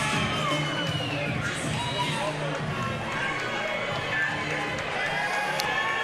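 At a caged flyweight championship MMA bout, an arena crowd roars and cheers steadily while a commentator talks over the noise.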